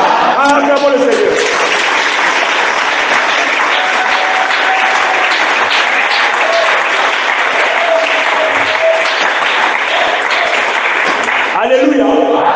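A church congregation applauds and cheers loudly and continuously for several seconds, with voices shouting in acclaim above the clapping.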